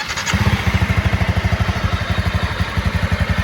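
A motorcycle engine revs hard for a fast launch off the line, a loud close pulsing exhaust beat with even rapid throbs after a brief start, continuous throughout.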